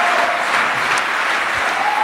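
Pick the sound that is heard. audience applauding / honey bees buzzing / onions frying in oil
audience applauding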